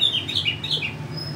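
A white-rumped shama, or murai batu, in song: a string of bright whistled and chirping phrases, fairly close and moderately loud, over a steady low background hum.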